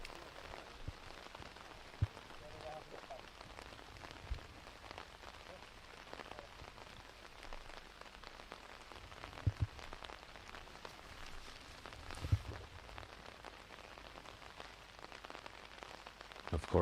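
Steady rain falls on a disc golf course during an open tournament round, a constant soft hiss of drops with a few sharper taps, heard alone without talking.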